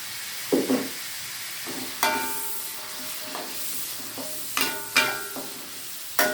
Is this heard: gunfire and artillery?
no